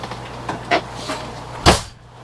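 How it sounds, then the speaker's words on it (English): A door shuts with one solid, close thud near the end as someone steps outside, preceded by a few faint knocks and rustles, with no one speaking. "you'll hear the door shut, or should hear the door shut"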